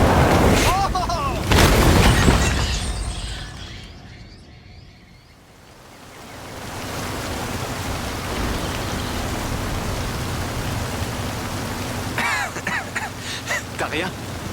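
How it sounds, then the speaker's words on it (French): Heavy rain and a deep rumbling storm in the Forza Horizon 5 video game near Tulum, with a booming swell, a lull, then steady downpour while people talk intermittently. "Les orages sont violents"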